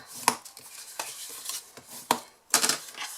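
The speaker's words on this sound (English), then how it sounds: "we're going to fold and burnish these score lines" Paper score lines on a small jam-jar box being folded and burnished by hand, a series of close, sharp taps and creases at irregular intervals, faint between hits.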